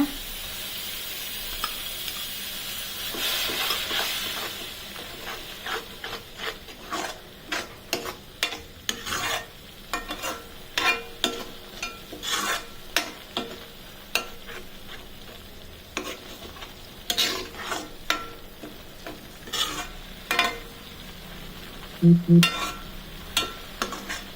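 Blended tomato poured into hot oil in a pan for a potato kurma gravy, sizzling and spattering, with repeated scraping and stirring strokes that come in irregular bursts, near and fairly loud, with no voices.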